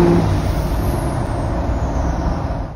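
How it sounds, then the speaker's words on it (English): An L5P Duramax diesel pickup fitted with a Stealth Mach 2 turbocharger drones steadily up close, its engine rumble topped by a thin high whistle that fades out at the end. "it's got a badass whistle out of the pipe"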